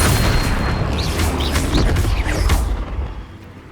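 A deep, booming burst from the Flipendo spell in Hogwarts Legacy hits loud at the start and rumbles for a couple of seconds, with a few sharp pops, before fading out.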